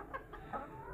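Chickens in a backyard coop give soft, faint clucks, a few brief calls close together over a quiet background hum.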